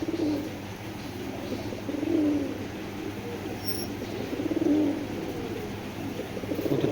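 Giribaz pigeons, a silver pair, coo in low rolling calls that rise and fall repeatedly over steady background hum, close and moderately loud with no talk.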